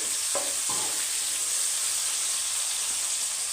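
Tomatoes and curry leaves frying in a pan for a potato-brinjal curry, a steady hissing sizzle with a couple of stirring scrapes near the start.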